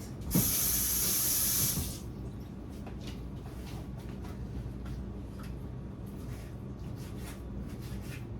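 Running tap water hisses into a sink as goat meat for Jamaican curry goat is rinsed, a loud rush at the start that gives way to quieter splashing and handling sounds nearby.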